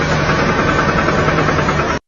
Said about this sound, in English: This is engine bearing noise rod knock. The knocking sound increases with engine speed.